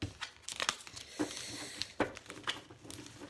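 A deck of oracle cards being cut and handled, soft papery shuffling, flicking and slapping of cards in quick irregular bursts, close and fairly quiet, with no talking.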